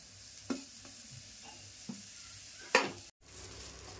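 Fresh grated coconut and onion roasting in a pan for a Malvani chicken curry, a low sizzle with a few scattered scrapes and stirring knocks close by, then a brief cut near the end.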